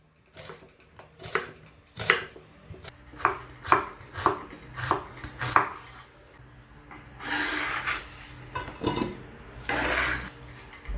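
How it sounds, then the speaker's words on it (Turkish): A knife finely chops a medium red onion, the blade striking a cutting board in a quick run of sharp, close taps, followed by a stretch of brisk scraping and rustling on the board. "bir orta boy kırmızı soğan ince ince onu da kesiyoruz"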